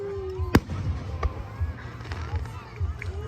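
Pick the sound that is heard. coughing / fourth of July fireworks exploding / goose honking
fourth of July fireworks exploding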